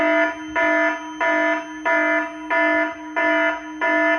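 A loud electronic second-level alarm from a CO2 fire suppression control panel repeats in steady pulsing bursts, about seven evenly spaced tones with short gaps between them.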